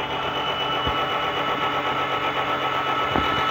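Honda Stream motorcycle engine cranking and running during carbon cleaning, with a steady, dense mechanical drone and rattling buzz held at an even, loud level throughout, plus a couple of low thumps.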